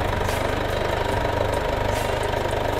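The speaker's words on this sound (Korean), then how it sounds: "엔진 소리도 일정합니다." A Mercedes-Benz C250 d 4MATIC diesel idles with the hood open, giving a steady, even clatter and hum heard close up with no talk.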